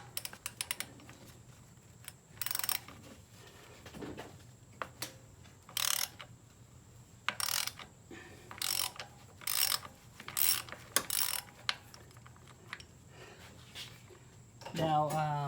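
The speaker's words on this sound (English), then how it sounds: "I'm going to use a deep socket here" A ratchet with a 19 mm deep socket works loose a PCV valve on a 2006-2012 Toyota RAV4 Limited 3.5L V6, giving bursts of quick ratcheting clicks separated by pauses, fairly quiet and close.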